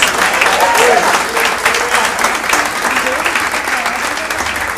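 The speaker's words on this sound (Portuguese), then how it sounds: "Então dê um aplauso forte ao Senhor." Loud, sustained applause from a large church congregation fills the room, a dense wash of clapping with scattered voices mixed in.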